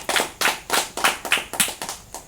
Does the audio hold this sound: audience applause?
yes